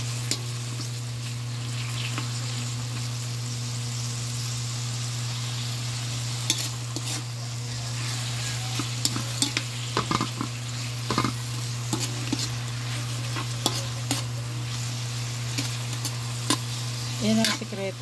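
Tomatoes sautéing in a hot pan to draw out their juice, with continuous sizzling and frying crackle over a low steady hum, punctuated by occasional stirring scrapes and pops.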